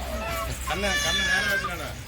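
A chicken clucks close by in a busy outdoor setting, mixed with voices talking over it.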